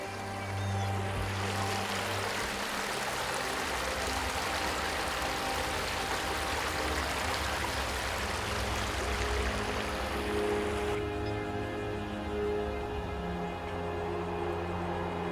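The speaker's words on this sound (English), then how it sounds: "the water comes through physical baffles and down this long corridor into Phipps Park" Water rushes steadily through physical baffles in a long stormwater treatment corridor feeding a vegetated park, a continuous broadband flowing hiss with low rumble, constant and close, with no one speaking.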